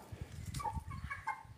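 Chickens cluck softly nearby, a few short bursts of low clucking over a quiet farmyard background.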